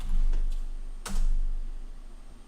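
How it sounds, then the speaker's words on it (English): Fingers type on a computer keyboard to enter a command in a terminal window for the Social-Engineer Toolkit: a few sharp, close key clicks in a short burst over a low background hum. "let's type in SE toolkit"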